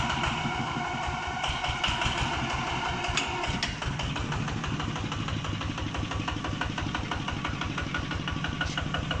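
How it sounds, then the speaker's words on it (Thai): A Kubota ZT155 diesel engine idles steadily and evenly, with a low, regular knocking rumble running throughout; no voices are heard. "เสียงเครื่องก็นิ่มครับ"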